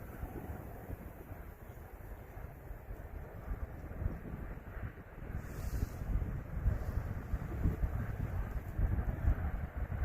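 Wind blowing outdoors during a winter fishing trip in Indiana, a low steady rumble buffeting the microphone that grows gustier and a little stronger partway through, with no voices.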